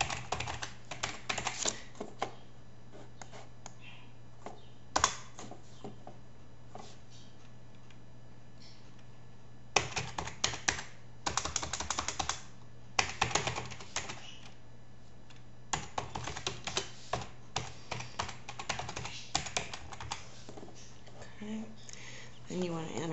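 Keys on a computer keyboard are tapped in quick bursts while a password is entered, soft clicky runs broken by short pauses, close and fairly quiet over a steady low hum.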